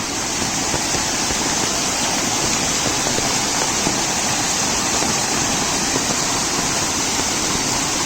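Fast-flowing flood water from torrential monsoon rain in Konkan surges through a swollen stream in a loud, unbroken roar nearby, with no voices.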